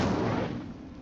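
The Incendio fire spell from the Hogwarts Legacy video game goes off as a dense, roaring burst of flame that starts loud and slowly fades over about a second.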